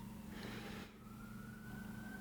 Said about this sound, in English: Okay, apparently we have sirens going off.